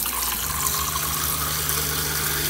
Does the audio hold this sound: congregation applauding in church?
no